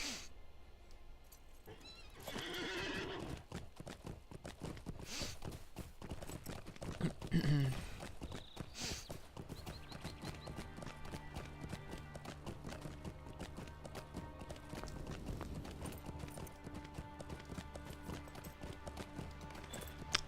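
Horse hooves clip-clop steadily through a Beorning questing session in the LOTRO video game, with a brief whinny near the start, all under layered game music and ambience at a moderate level.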